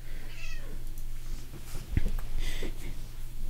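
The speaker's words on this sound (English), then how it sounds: "Snowflake, I love you, kitty." A pet cat meows a few times, close and fairly soft, against a steady low hum of room noise with no talking.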